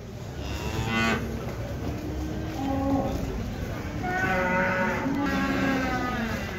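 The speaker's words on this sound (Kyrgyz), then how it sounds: "Жаңы туган музол уй." Cattle at a livestock market in Karakol, where several cows low repeatedly, some near and some farther off, over a dense crowd murmur and people talking.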